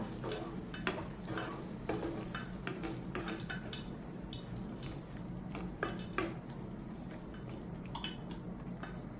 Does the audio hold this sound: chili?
yes